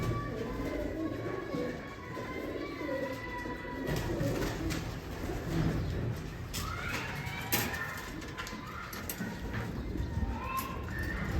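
Pigeons coo softly in a loft, low repeated murmuring calls with occasional wing flutters and a faint voice talking in the background.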